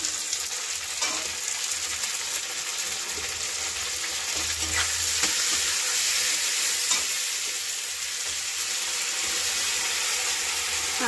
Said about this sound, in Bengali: আদা রসুন পেঁয়াজ এর মধ্যে মিক্সি করা মশলা দিয়ে দিলাম।